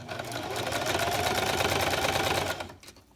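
A sewing machine runs a fast, steady straight stitch through several layers of fabric on a baby sleeper. The close, even whirring and rapid ticking continue for most of the time, then stop abruptly.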